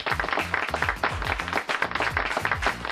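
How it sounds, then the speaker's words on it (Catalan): Classroom applause for a student who has just read a text aloud, several children clapping together in an uneven, fairly close burst that lasts a few seconds. "Molt bé, doncs un aplaudiment"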